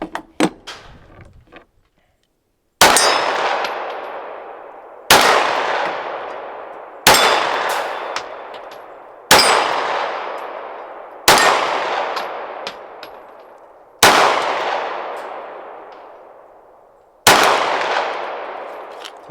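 M&P Shield EZ 9 pistol firing at steel targets outdoors: sharp, loud shots with ringing metallic clangs that decay, about seven evenly spaced reports after a few faint small knocks, no talking.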